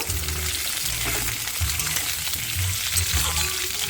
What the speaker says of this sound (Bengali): আলুগুলো আলুগুলো একটু ভালো করে ভেজে নেব